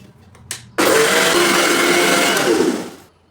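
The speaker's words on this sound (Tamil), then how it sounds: "பச்சரிசியை ஊற வச்சு அதை மிக்ஸி ஜாரில் போட்டு நைஸாக அரைச்சி எடுத்திருக்கேன்" A mixer grinder roars to life after a brief click, grinding soaked raw rice loudly and steadily for a few seconds before winding down.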